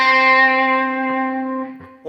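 A distorted electric guitar note sustains, then short picked and pulled-off notes follow from a solo, bright and loud with a rich harmonic buzz.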